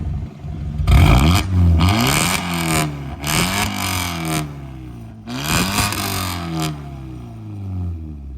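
BMW 318ci E46 with a Stage 1 full straight-pipe exhaust revving hard in repeated bursts, each climbing sharply then dropping back to a rough idle, close and loud, with no talk.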